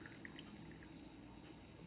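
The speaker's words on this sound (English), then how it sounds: "add more water to each jar" Water trickling and splashing softly into glass canning jars of homemade baked beans, a faint steady pour with small bright droplet sounds and no talking.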